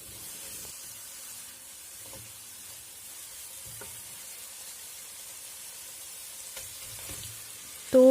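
Vegetables with tetra-pack cooking cream stirred in a hot pan for a Pakistani dinner, giving a steady soft sizzle and hiss with occasional scraping stirs, close and alone until a brief louder clatter at the very end.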